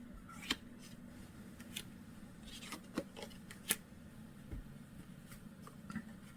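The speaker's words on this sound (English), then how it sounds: "I'm gonna start moving cards." Playing cards moved about during a Beleaguered Castle solitaire game, a scattering of quiet, crisp card slides and taps spread irregularly over a hushed room, close and faint.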